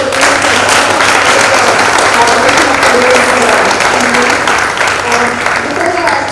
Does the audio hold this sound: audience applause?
yes